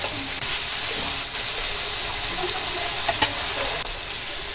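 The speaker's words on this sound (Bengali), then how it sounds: "এইগুলো ভালো করে কষিয়ে নিতে হবে যেন তাড়াতাড়ি নরম হয়ে যায়।" Sliced green chilies sauté in a hot pan, giving a dense, steady sizzle close up with a few faint clicks and spatters.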